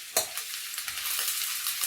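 Chicken stir fry stirred in a hot pan with pre-spiced pieces, a steady close sizzle of frying under repeated scraping and stirring strokes, with a sharp clatter near the start and no talking.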